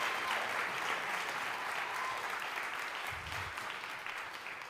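Steady audience applause at a student film festival, honoring a guest speaker, a dense, even wash of clapping from a crowd that holds throughout without talk.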